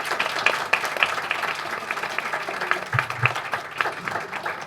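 Audience applause at a university undergraduate literature colloquium panel, a steady crackle of many hands clapping in a lecture room, moderately close, with a brief low murmur near the end.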